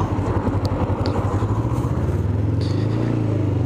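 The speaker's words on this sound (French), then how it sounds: "Je suis en moto les gens" Motorcycle riding, a steady close engine drone with rhythmic pulsing throughout and no talk.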